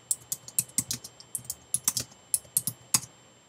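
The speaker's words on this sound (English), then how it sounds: "sorry about my typing" Quick, uneven keystrokes on a computer keyboard, heard close up with irregular clicky taps in short bursts and no talking.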